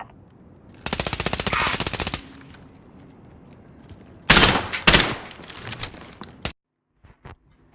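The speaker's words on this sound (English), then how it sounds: "I get shot in the back a couple times" Automatic gunfire in a video game shooting match, heard as two dense rapid bursts, the first lasting about a second and a half and the second about two seconds, followed by a couple of brief single shots.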